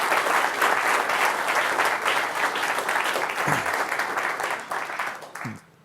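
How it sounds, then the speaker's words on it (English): Audience applause at an automotive cyber safety talk, a dense steady clapping from a crowd that holds for several seconds and then tapers off near the end. "they need a round of applause"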